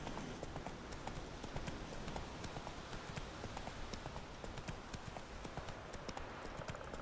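Hooves of the horse Roach clip-clopping in a steady, quick rhythm in The Witcher 3, soft and fairly close under faint ambience.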